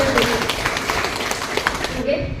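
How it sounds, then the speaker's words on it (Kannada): Applause from an audience at a ceremony honoring a coaching teacher, a dense patter of claps with a speaking voice over it, fading out at the end. "ದೊಡ್ಡ ಚಪ್ಪಾಳೆ"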